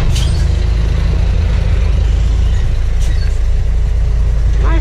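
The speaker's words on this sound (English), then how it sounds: "That's a garbage truck" A garbage truck rolls past on a flooded street in Barrio Barretto, its heavy engine rumbling loud and close throughout, with a brief hiss of air brakes.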